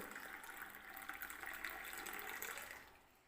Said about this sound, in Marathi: हे गरम गरम दूध या कॉफीमध्ये ओतायचं आहे